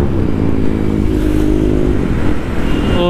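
A motorcycle engine runs steadily and loudly at the start of a ride to Adegaon Fort, a continuous close rumble with a slight dip and rise in revs near the end.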